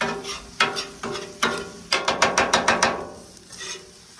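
Onions, carrots and garlic cooking on a Blackstone griddle, heard as a close run of rapid rhythmic metallic scraping strokes over a steady sizzle, loud and without speech.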